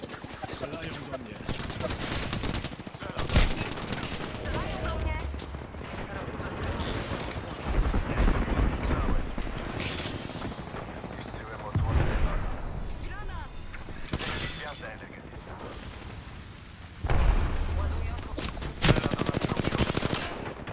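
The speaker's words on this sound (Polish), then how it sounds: "Strzelają do mnie." Gunfire in the video game Apex Legends: repeated automatic bursts and scattered shots over about twenty seconds, some loud and close, others fainter, with game noise and voices running underneath.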